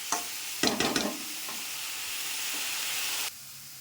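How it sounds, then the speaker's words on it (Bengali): Greens sizzling in hot oil, a steady close hiss with a few sharp stirring scrapes near the start, cutting off abruptly near the end. "এখানে শাকটা ভাজা ভাজা হচ্ছে"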